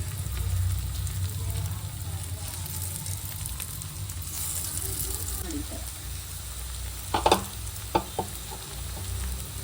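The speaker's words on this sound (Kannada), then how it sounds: "ಆಯಿಲ್ ಬಿಸಿಯಾಗಿದೆ. ಈ ಥರ ಒಂದೊಂದು ಹಾಕೋದು." Pieces of taro root (arbi) drop into hot oil one by one and fry with a steady low sizzle and bubbling, punctuated near the end by a few sharp clinks, close by, as someone talks over it.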